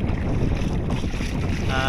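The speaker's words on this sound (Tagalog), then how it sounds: "Medyo mahangin at maalon" Steady wind buffets the microphone over the wash of choppy sea water around a kayak, a continuous rough roar with no voices.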